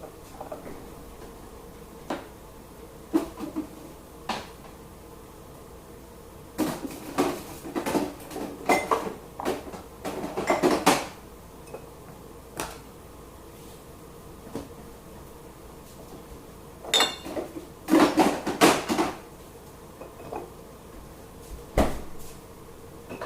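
Sauce bottles put away in a kitchen, heard as scattered knocks, clinks and cupboard clatter in two busy clusters separated by quieter gaps, no talking.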